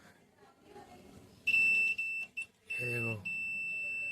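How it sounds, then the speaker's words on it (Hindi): Continuity buzzer of a multimeter testing transistors on a CA 20 module, emitting loud steady high-pitched tones broken by short gaps as probes touch, with someone talking briefly underneath. "मैंने ये मीटर आपके सामने बजर पे सेट कर लिया है।"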